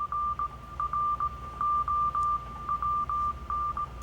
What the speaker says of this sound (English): This is Morse code.